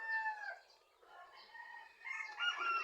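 A fighting rooster crows in a long, wavering call, with other fowl calling and clucking nearby; the crowing is clear and moderately close, with no talk over it.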